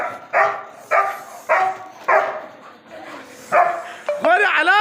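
A German shepherd dog in the street gives a run of loud, close barks spaced about half a second apart, ending in whining yelps.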